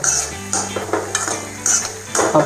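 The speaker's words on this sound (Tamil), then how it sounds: "இந்த கடாயில் என்ன இருக்குன்னா, முந்திரி, பாதாம், தேங்காய் இந்த 3 இருக்குது. இது நல்லா வந்து அப்படியே ஃப்ரை ஆகட்டும்" Cashews, almonds and coconut frying in a kadai for Bombay halwa, stirred with a metal spoon: sharp clinks and scrapes against the pan in an irregular rhythm over a soft sizzle and a steady background hum, close and fairly loud.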